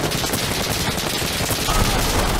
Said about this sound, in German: Oh, jetzt ballert der auf mich.